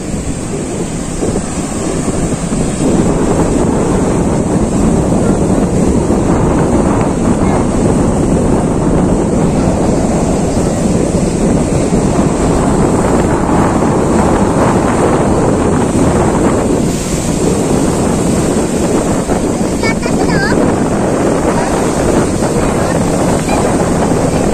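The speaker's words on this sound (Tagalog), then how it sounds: "Grabe lakas ng alon dito kayo sa dagat. Ang lakas ng hangin." Strong wind buffets the microphone over the heavy, continuous roar of crashing sea waves, loud and unbroken.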